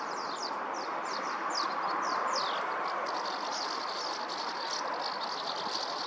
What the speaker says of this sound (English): These are Housemartins.